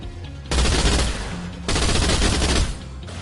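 Rapid automatic gunfire from a video game gun in two long, loud bursts separated by a short pause, each a dense rattling stream of shots close up.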